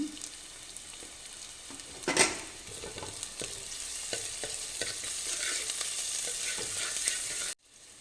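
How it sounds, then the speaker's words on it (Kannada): Onion and turmeric fry in mustard oil for a soybean gravy, with a constant sizzle close by. Stirring scrapes run through it, a sharper utensil clatter comes early on, and the sound cuts off abruptly near the end. "ಇದನ್ನು ಹಾಕಿ ಚೆನ್ನಾಗಿ ಫ್ರೈ ಮಾಡೋಣ"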